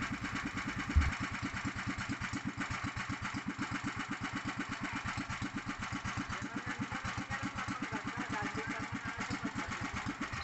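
A boat engine with a repaired starter pulley runs steadily after starting, making a fast, even low thumping idle that continues unchanged throughout.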